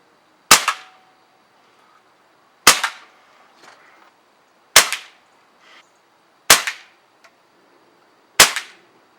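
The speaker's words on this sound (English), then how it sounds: "Let's go take a couple shots." Five sharp shots from a Crosman Pumpmaster 760 pump airgun, pumped about eight times, fired outdoors at roughly two-second intervals, each a loud crisp crack with a short decay and quiet gaps between.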